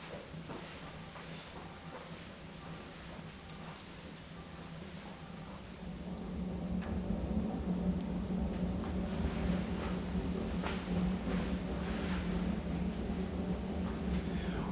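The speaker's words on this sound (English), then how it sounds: "you're getting to hear the sound of the flames, the crackling of the wood as it builds up temperature" A wood fire in a Stuv 30 Compact open-fronted stove, lit from a single fire lighter, crackles and ticks steadily with a soft roar that grows noticeably fuller partway through as the flames build.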